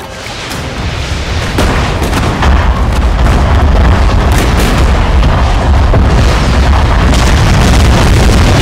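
Rocket fire and explosions in the video game Total War: Shogun 2, a dense, continuous barrage of loud booming blasts and cracking bursts that builds within the first seconds and then rumbles on without pause.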